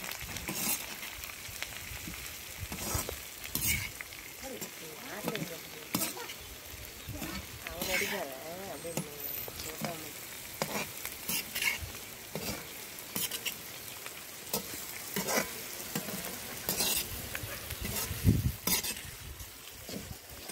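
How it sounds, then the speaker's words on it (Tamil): Green chillies, curry leaves and onions sauté in a pan over a rocket stove, giving a steady close sizzle broken by repeated scraping stirs, with faint voices in the background. "மூணையும் போட்டு நல்லா வதக்கணும்"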